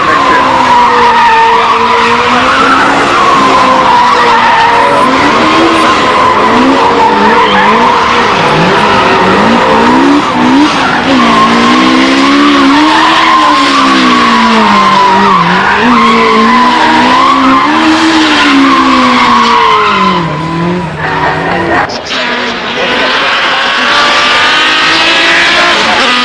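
Race cars drift and powerslide at the Goodwood Festival of Speed hill climb, tires squealing in long wavering howls over loud engine roar, close and continuous, with a brief dip near the end.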